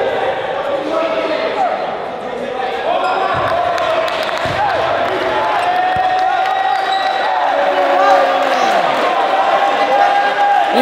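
A crowd at an elite 3v3 basketball game keeps up steady, loud cheering and shouting throughout, with a few sharp ball bounces and thuds cutting through the din.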